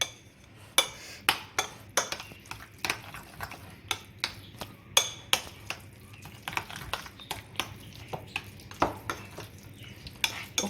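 Cauliflower leaves being stirred with olive oil in a bowl, a string of sharp utensil clinks and scrapes against the dish in an uneven rhythm, close and fairly quiet with nothing else heard.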